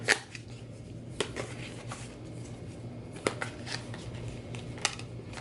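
Tarot cards being shuffled by hand, a soft continuous riffling with occasional sharper snaps, close and quiet.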